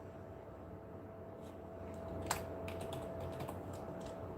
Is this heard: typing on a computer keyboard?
yes